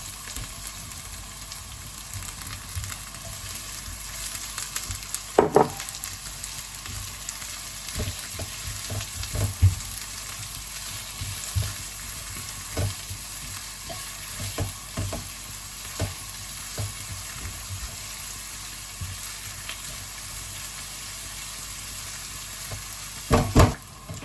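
Onion, with garlic, frying in a pan for Nigerian meat pie, a continuous close sizzle with occasional clicks and spoon scrapes over about twenty seconds, no voices.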